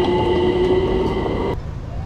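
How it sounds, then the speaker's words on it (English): Trains go through a London level crossing in a steady, loud rail rumble with a high tonal squeal from wheels or brakes that drops away abruptly near the end, leaving a quieter low background. "We'll have to wait now for the trains to go through."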